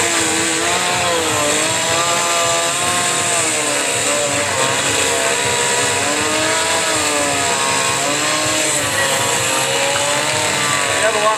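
Chainsaw carving in wood: a loud, close chainsaw drones and revs continuously, its pitch wavering as the blade works through the wood. No voices are heard over the engine.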